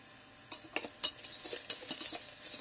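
Vermicelli upma being stirred and fried inside an electric kettle, with a series of soft scraping stirs and light sizzling, about one stroke every quarter second, close and fairly quiet with no talking.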